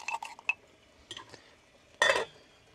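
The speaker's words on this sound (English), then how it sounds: "Mix up your stuffing." A spoon scrapes and clinks against a bowl while stuffing is mixed in a campervan kitchen, giving a few sparse light taps followed by one louder rattling clatter, close and otherwise quiet.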